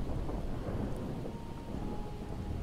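Steady rain with low rumbling thunder in the zombie survival game Project Zomboid, a constant dense wash of rainfall that holds evenly at moderate loudness, with no voices.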